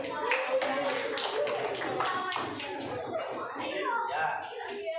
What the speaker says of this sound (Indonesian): Tepuk tangan untuk kelompok 8.